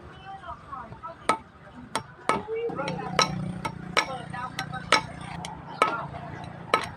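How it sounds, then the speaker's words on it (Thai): Hammer pounding a part into a 16-inch Hatari wall fan, a series of sharp, separate metallic taps spaced roughly half a second to a second apart, moderately close, with a low hum and occasional quiet speech beneath. "ใช้ค้อนตอกอัดลงไปเลย"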